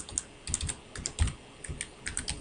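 Rapid clicking of keys on a computer keyboard, irregular bursts of close taps with short pauses, no voices.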